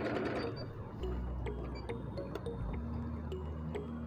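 A sewing machine stitches a picot edge, a close rapid mechanical chatter with steady needle ticks and a low motor hum running throughout.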